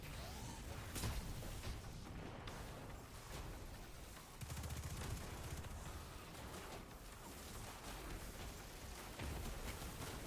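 Sniper rifle gunfire in Destiny 2 cracks out repeatedly amid a dense, noisy firefight, with sharp reports and whooshes layered over a constant rumble of battle.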